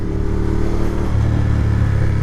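A 2013 Ducati Diavel V-twin motorcycle with an aftermarket exhaust, its engine rumbling loud and close in a steady low throb that rises slightly in pitch partway through.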